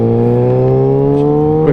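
A 2022 Kawasaki Ninja ZX6R fitted with an aftermarket exhaust holds a steady, loud engine drone with a smooth rising pitch while riding, with a faint scrape near the end.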